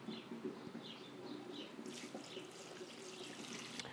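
Red ale beer pours into a carboy with a continuous splashing, bubbling rush of liquid, moderately close and steady with no talking.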